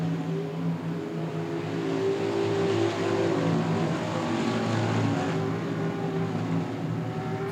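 Stock race cars howl around South Texas Speedway in a steady pack, engines droning and overlapping at moderate distance with a slight swell midway through.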